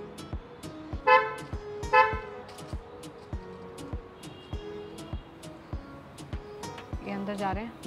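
A car pulls up outside a house, its horn tooting twice in short bursts over the engine and road noise, followed by repeated ticking clicks while people talk nearby.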